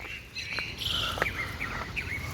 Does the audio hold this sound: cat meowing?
no